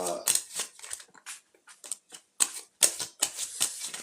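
Tarot cards handled and shuffled for a card reading during a live session, heard as quick, sharp papery flicks and taps in uneven bursts, close by, with some pauses between.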